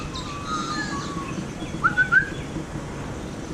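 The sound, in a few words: birds calling outdoors, magpies or seagulls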